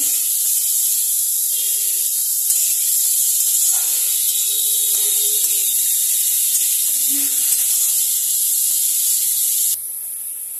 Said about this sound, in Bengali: এখানে আমার আলু ফুলকপি, এখানে আমি এগুলো ঢেলে দেবো। ভালো করে ভেজে নেব।